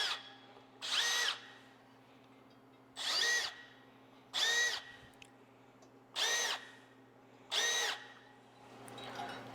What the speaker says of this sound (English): first I'm going to come in with a hand drill and just clean out the powder coat that's in our rivet holes here